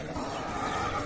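A Morni breed mare neighs close by, a loud continuous whinny filling the short moment over rough outdoor background noise.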